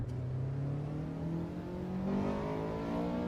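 Race car engine in the video game Assetto Corsa EVO, revving high and holding in the upper rev range, a continuous whirring drone with a slight swell partway through and no talking.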